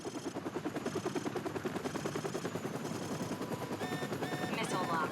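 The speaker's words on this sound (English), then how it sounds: "You set up an IR beacon so the choppers don't shit on you." Call of Duty 4 Modern Warfare battle, a steady chopping of helicopter rotors mixed with rapid machine-gun bursts, fairly quiet and continuous, with electronic beeps and tones near the end.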